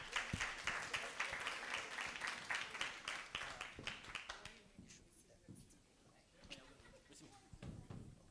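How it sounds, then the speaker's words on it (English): Scattered applause from a workshop audience welcoming a panel, a few seconds of fairly faint clapping that thins out into isolated claps and room noise, with some voices underneath. "Round of applause."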